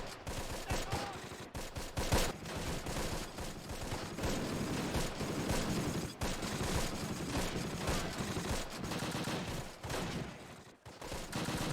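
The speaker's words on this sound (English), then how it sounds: "resulting in an intense exchange of gunfire." Intense gunfire from the WWII strategy game Close Combat: The Longest Day during an airborne assault on Amfreville, dense overlapping rifle and machine-gun bursts crackling continuously and loudly throughout.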